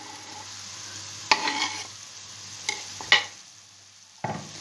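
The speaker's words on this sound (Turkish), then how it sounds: "Ve karıştırıyorum tekrardan soğanım, biberim ve etim özleşsin." Beef, onion and green pepper frying in a pan are stirred, with a few distinct scraping spoon strokes over a soft steady sizzle, no voices.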